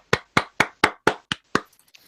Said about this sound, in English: round of applause for the Mongols.